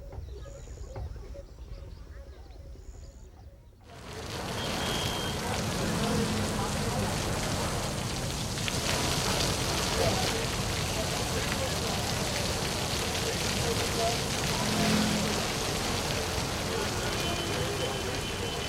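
Heavy monsoon rain pours down steadily as a dense, even hiss after a quiet opening of a few seconds, continuing unbroken at close range with a faint bird call now and then.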